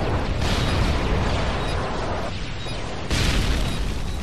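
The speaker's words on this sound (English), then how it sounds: "Just throwing grenades everywhere here at B" Grenade explosions in the Call of Duty: Modern Warfare 3 video game, heard as loud, close booming blasts that merge into a continuous rumble, with a fresh detonation hitting near the end.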